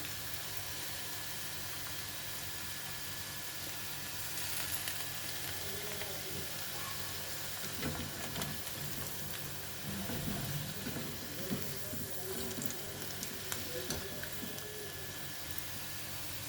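Batter-coated ivy gourd (dondakaya) frying in hot oil on a low flame, a steady soft hiss and sizzle throughout with small crackles and bubbling.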